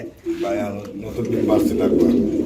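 Pigeons, including a running king cock, cooing in low rolling calls among a loft of birds for sale, heard beneath continuous close talk.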